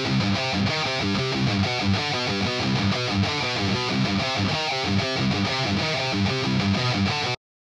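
Dense, heavily distorted electric guitar through the Amped Roots VST plugin, chugging out a steady rhythm riff, loud and continuous from start to finish, with no voices.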